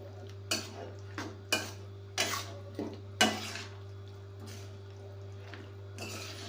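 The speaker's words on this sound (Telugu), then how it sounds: "బాగా కలియదిప్పుకోవాలి." Eggplant strips, soaked in salt water, being stirred into a tomato curry in a pan, giving several distinct scraping clinks of a spoon against the pan at irregular intervals over a steady low hum, with no talking.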